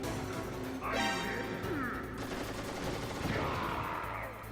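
A grenade detonates in Metal Gear Solid with a sharp crashing burst, then a second blast a couple of seconds later, amid game noise and a voice.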